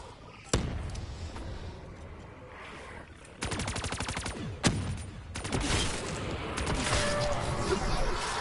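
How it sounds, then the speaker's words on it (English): Rapid bursts of light machine gun fire in a PS4 shooter, dense rattling volleys with a couple of sharp single blasts, loud and close, mixed with game noise and some talk. "Just keep on shooting them with your LMG"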